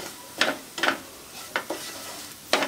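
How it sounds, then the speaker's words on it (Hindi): A spoon stirs turmeric, chili powder and salt into frying onions in a pan for a bitter gourd dish, several distinct scraping strokes over a soft continuous sizzle, close and clear. "सभी चीज़ों को अच्छे से मिक्स कर दूंगी और ये मसाला भुन भी जाएगा प्याज के साथ"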